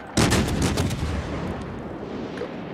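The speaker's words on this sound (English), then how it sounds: "he's firing his guns over the island." Warship main guns firing in the naval video game World of Warships, a rapid salvo of loud booming blasts at the start that fades into a long rumbling decay.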